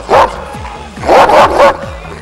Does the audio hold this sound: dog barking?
yes